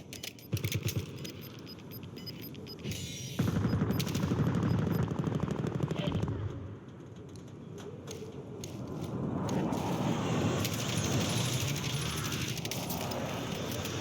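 Rapid automatic gunfire from a Kilo 141 assault rifle in Call of Duty Warzone, steady dense bursts running across the whole stretch with mechanical rattles and game effects, loud and close, with little talk over it.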